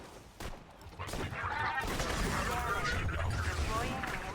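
Bursts of rapid video game gunfire and explosions fill the stretch, sustained and loud after a brief opening shot.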